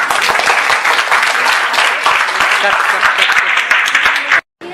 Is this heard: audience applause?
yes